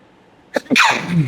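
One sharp sneeze up close, a quick intake followed by a loud burst, in an otherwise quiet room.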